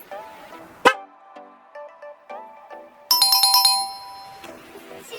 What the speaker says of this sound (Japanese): キングカズコのホーン交換しました